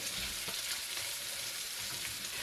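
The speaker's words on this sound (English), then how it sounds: "Add that and cook until the onion is translucent. I'm going to turn this down a little bit. Stir that up really good." Chopped onion and red pepper fry in a pan, a steady close broadband sizzle with soft scraping stirs at intervals, no voices.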